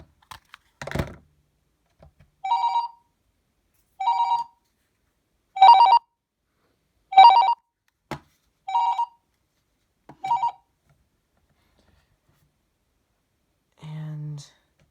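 An AT&T EL52210 cordless phone handset gives its paging ring, six evenly spaced electronic trills, loud and close, with a few clicks and knocks around them.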